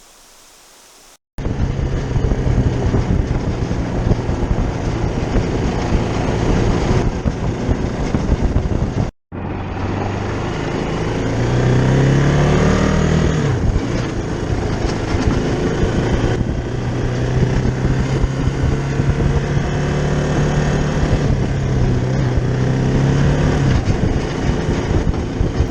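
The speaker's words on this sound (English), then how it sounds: "Drop off this trailer because it makes too much noise." An off-road four-wheeler drives through the woods on a fishing trip, towing a rattling, noisy trailer: a loud, steady engine roar with shifting rumble, broken by a brief drop to near silence partway through.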